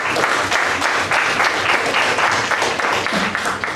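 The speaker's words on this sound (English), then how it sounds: "A big round of applause for all the speakers who did a fabulous job on stage." An audience at the close of a speaking club meeting gives the speakers a round of applause, dense and loud continuous clapping from many hands throughout, with no voices standing out.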